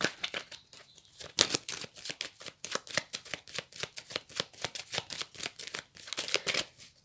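A deck of tarot cards is cut and handled, making a quick, rhythmic series of soft papery riffles and flicks, close and fairly quiet with no voices.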